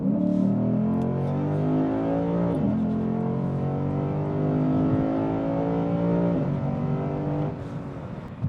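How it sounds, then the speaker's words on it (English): A 2024 Lexus IS500 with a naturally aspirated 5-liter V8 and 8-speed automatic accelerates at full throttle in Sport Plus mode, its engine note rising steadily with two brief dips at gear changes, loud and continuous from inside the car. "we'll go ahead and put the car in Sport Plus mode and full throttle"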